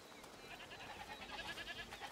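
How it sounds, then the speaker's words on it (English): Goats bleating in the video game A Plague Tale: Requiem, several wavering bleats overlapping at a distance over a quiet ambient background, faint and steady. "Goats!"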